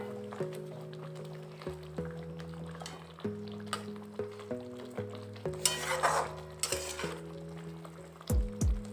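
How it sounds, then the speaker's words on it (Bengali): Fried fish pieces go into a simmering yogurt gravy for a Bengali doi katla curry, giving short sizzling and bubbling bursts under steady background music. "গ্রেভিটা ফুটে উঠতে শুরু করেছে, এবার আমি ভেজে রাখা মাছগুলোকে দিয়ে দিচ্ছি।"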